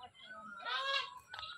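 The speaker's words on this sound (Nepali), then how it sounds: "टर्की यहाँ यसरी खेल्दै गरेको छ" A turkey at a rural farm gives a couple of short, quiet gobbling calls close together, with faint ambient noise and no talk.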